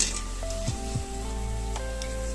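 Spicy roadside-style bonda fries in hot oil, giving a steady close sizzle broken by a few light clinks and stirring touches, with no one speaking.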